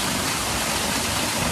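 Steady roar of a large waterfall close by, broadband rushing water without pause and no talk.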